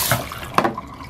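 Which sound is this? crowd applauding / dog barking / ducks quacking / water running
water running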